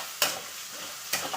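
Eggplant frying in hot oil with a continuous close sizzle, two sharp bursts of crackle as pieces are stirred or turned.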